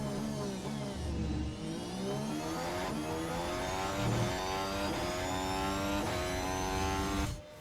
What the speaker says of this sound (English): Let's see the top speed of the Red Bull on the straight